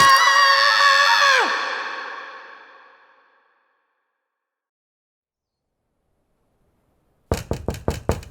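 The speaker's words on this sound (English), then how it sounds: "Apple Bloom knocked on the castle door." Knocking on a castle door: about five sharp, evenly spaced raps, loud and close, following a long silence after a fading, echoing tonal sound.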